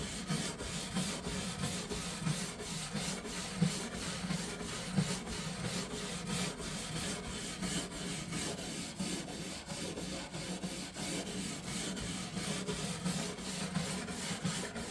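A brush scrubs grime embedded in a wooden piece of furniture, making a continuous close rough rubbing sound with a quick back-and-forth rhythm throughout and no talk.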